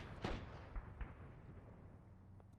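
A Mark 19 grenade launcher firing in a video game: a few faint, distant thumping shots, the first sharpest, the others softer, over low background rumble.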